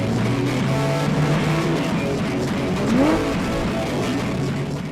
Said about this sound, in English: practice matching the RPM with a traditional heel-toe downshift